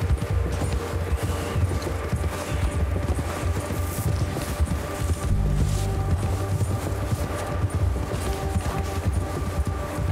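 Rapid hoofbeats clatter steadily as a horse gallops in Red Dead Redemption 2, backed by a busy layer of game music and ambient noise.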